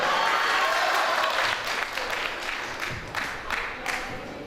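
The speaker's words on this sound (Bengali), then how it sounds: "যাই আপনি যে সত্যি আছে জোরে একটা তালি হবে" Applause from a crowd of students at a university rag day celebration in Dhaka, a broad, dense patter that is loud at first and then thins slightly, with voices mixed in beneath the clapping.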